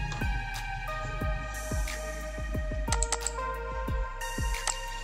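Steady clatter of keystrokes on a computer keyboard while writing in MS Word, quick uneven taps close up with short pauses between bursts, no voices.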